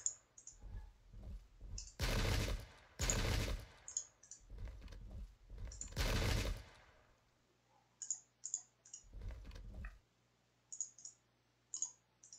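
Massed musket volleys in the Pike and Shot strategy game, heard as a few loud, broad crackling bursts spaced seconds apart, set among sharp interface clicks and quieter gaps.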